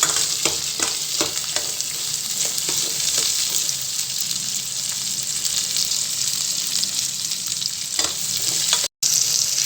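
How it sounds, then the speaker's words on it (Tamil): Shallots, green chilies and garlic cloves sauté in a pan with an even, continuous sizzle and occasional stirring scrapes, with no voices. "சின்ன வெங்காயம் ஆட் பண்ணிக்கோங்க பச்சை மிளகா பூண்டு பல் ஆட் பண்ணிக்கோம் இது எல்லாத்தையும் நல்லா வதக்கிக்கலாம்"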